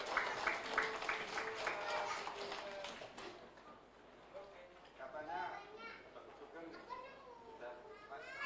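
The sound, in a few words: audience applause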